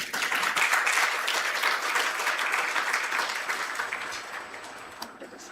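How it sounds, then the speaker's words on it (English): An audience at an MSME leadership summit on a college campus claps in dense, sustained applause that fills the hall, gradually thinning toward the end, with a few voices faintly underneath. "Can we have a huge round of applause?"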